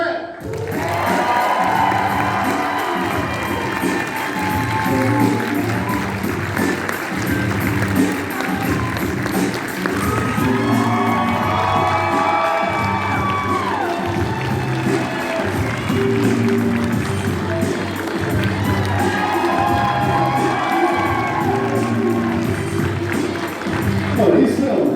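A large convention panel crowd cheering and applauding as basketball player Kevin Durant is introduced at Texas Frightmare, sustained loud clapping and whooping with shouts across the room.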